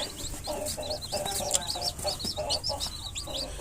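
Chickens cluck in a heated coop for young chicks after a startled hen lashes out, a busy run of repeated clucks and squawks close by, continuous and lively over low barnyard rumble.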